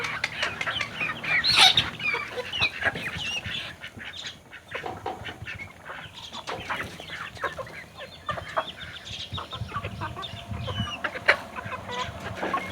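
Chickens on a small village farm cluck and squawk repeatedly nearby, with scattered sharper calls and rustling activity throughout.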